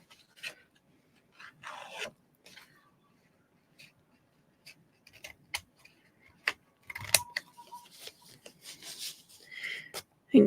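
A worn paper trimmer with a dull blade, folding rather than cleanly slicing the paper, makes scattered soft rasping strokes and light clicks. The sounds are faint and close, spread irregularly across the stretch with quiet gaps between them.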